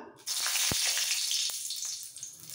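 Two dried red chilies hit hot oil in a kadai, setting off a sudden loud, close sizzle that holds steady with a few sharp crackles before easing slightly.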